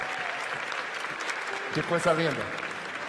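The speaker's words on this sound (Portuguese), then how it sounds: "vamos dar um aplauso às mulheres da igreja" Applause for the women of a church congregation during a Portuguese-language sermon, clapping filling the room behind a voice that speaks over it and then a brief burst of louder talk near the end.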